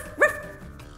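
A human voice imitates a dog with a single short, sharp bark, brief and close, over a quiet background.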